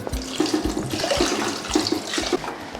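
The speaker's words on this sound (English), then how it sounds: "I'm going in with a bit of water again." Water pours into a soup pot in a kitchen, a close, bright splashing stream with gurgling bursts lasting a few seconds.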